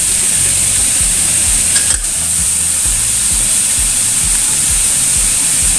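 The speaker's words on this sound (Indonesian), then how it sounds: "Lalu setelah itu masukkan pare. Tumis perlahan dan kecilkan apinya terlebih dahulu ya." Sliced bitter melon stir-fries in a hot pan on low heat, giving a loud steady sizzle with rhythmic scraping strokes of the spatula throughout.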